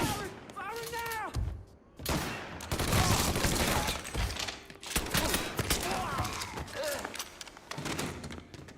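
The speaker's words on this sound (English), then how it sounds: "Firing now!" Bursts of gunfire in the Mafia 3 video game, with repeated sharp shots and heavy thuds spread across the stretch, loud and close, mixed with a shouting voice and game sound.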